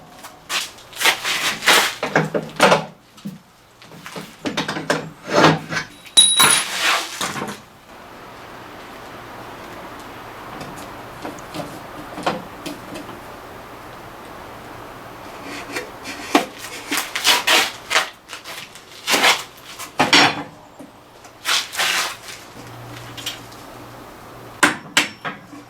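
Metal-on-metal tapping, scraping and clinks as a cotter pin and retaining pin are worked out of a planter's seed hopper, irregular close bursts separated by quieter stretches.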